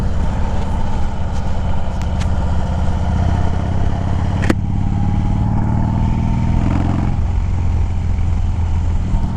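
A motorcycle rides nearby and turns around, its engine a steady, loud low rumble throughout with a slight change in pitch partway through and no talking.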